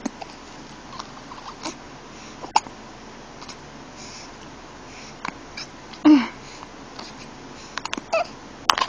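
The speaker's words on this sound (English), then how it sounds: "We had the hiccups at the same time." A one-month-old baby hiccups in a few brief, soft catches spread out among quiet background hiss, with a slightly stronger hiccup near the middle; no talking is heard.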